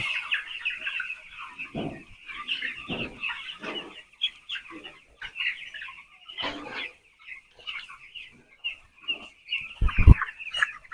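A flock of 14-day-old broiler chickens clucks and chatters close by on a poultry farm during weighing, with bursts of busier calls and a few thumps near the end.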